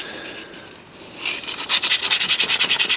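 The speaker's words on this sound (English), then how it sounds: "so I've got some sandpaper here, just giving it a little rub" Sandpaper rubbed by hand over a clutch pedal part from a Fiat 500 1.2, starting as a faint scuff and building into a rapid, steady run of close, loud back-and-forth rasping strokes.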